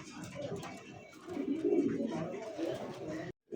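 A male pigeon, one of a pair of fancy show pigeons, coos in low rolling bursts at close range, mixed with other bird sounds and brief murmurs of voices.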